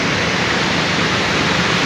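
Heavy river water rushing through Taunsa Barrage, a steady, loud, broadband roar of churning flow that holds constant throughout with no talk over it.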